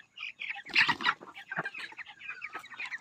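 Broiler chicks around 23 days old on a poultry farm cluck and peep in a busy flock, close and fairly loud, with a burst of squawking early and continuous chattering calls.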